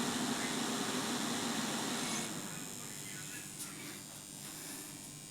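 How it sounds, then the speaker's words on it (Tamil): A small electric fan, driven by an LM358 and NTC thermistor temperature-control circuit, whirs on its own with a steady broadband hum that is louder for the first two seconds, then settles to a softer, even drone. "ஃபேன் ரன் ஆகுது"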